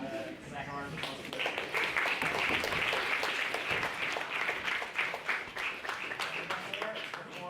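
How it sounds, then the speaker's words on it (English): Audience at a university debate applauds, a dense round of clapping that swells after a second and holds steady for several seconds before tapering, with a voice briefly heard at the start. "So we have a second round of applause."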